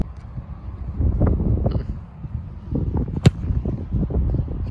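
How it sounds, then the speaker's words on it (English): A strong 20 to 25 mph crosswind sweeping a football field, rumbling and buffeting the microphone in steady, loud gusts, with a sharp thump partway through. "Strong wind right to left."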